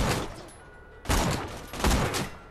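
Bursts of gunfire ring out in Borderlands 2, with a sharp volley at the start and two more loud, abrupt blasts about a second apart, each trailing off quickly.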